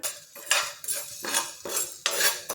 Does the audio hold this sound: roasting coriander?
yes